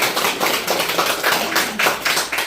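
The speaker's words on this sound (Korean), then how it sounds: "박수 좀 쳐주세요." Audience at a Korean book launch event clapping loudly and steadily, the applause swelling in uneven waves of close, dense hand claps with no talking.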